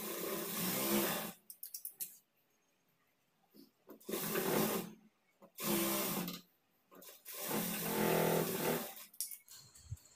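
A sewing machine stitches the shoulder seam of a nighty with its right sides together, running in four steady bursts of about a second each, separated by near-silent pauses.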